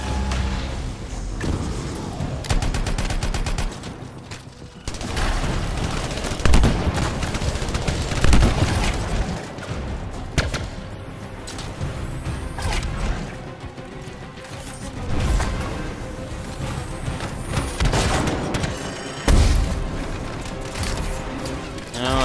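Rapid bursts of gunfire and explosions from the sci-fi shooter video game Anthem, loud and dense over about twenty seconds, layered with booms, crashes and game music.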